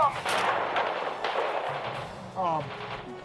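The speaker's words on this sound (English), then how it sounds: "Enemy panzers are shelling our position south." Tank shell impacts and artillery bursts from the World War II strategy game Radio General, a dense run of booms and rumbling blasts with a distant-battle feel and voices heard over them.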